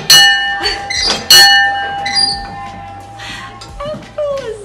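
An old school bell rung by hand clangs twice in loud, close strikes with long ringing tails, then fades under people talking.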